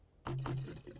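A quick liquid gurgle of fuel being poured while refuelling a vehicle in 7 Days to Die, a short burst of sloshing that starts abruptly after a quiet moment and tails off.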